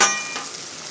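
Sausage sizzles and fries on a Blackstone griddle, a close, steady crackling hiss heard alone.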